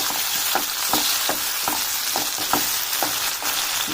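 Tomato pieces for mint chutney fry in hot oil, giving a steady, close sizzle with a crackling, hissing texture and faint rhythmic stirring ticks throughout, no voices.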